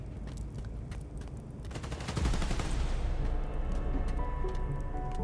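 Gunfire in Marvel's Spider-Man: Miles Morales, rapid bursts of shots building into dense sustained fire with booming impacts.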